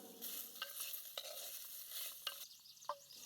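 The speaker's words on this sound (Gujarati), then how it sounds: "આપણે ચટણી બનાવવા માટે સમારેલી ડુંગળીને તેલ વગર શેકી લઈશું" Chopped onions dry-roast in a pan without oil for a chutney, giving a soft steady sizzle with scattered faint scrapes and stirring clicks, quiet and without voices.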